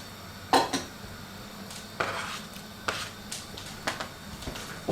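Knife cutting garlic on a board for borscht, a series of sharp, separate taps spaced irregularly about a second apart, close and moderately loud with no talking.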